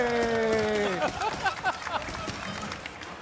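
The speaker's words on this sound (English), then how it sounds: "What are they clapping for?" An audience at a Gamescom 2024 gameplay presentation claps in a brief patter of applause under crowd noise and game music, while a voice talks over it.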